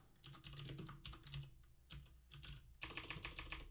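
Typing on a Mac computer keyboard, bursts of rapid close key clicks separated by short pauses, no talking.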